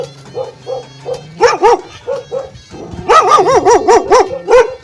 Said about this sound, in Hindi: ये दो कुत्ते भी रखे हुए हैं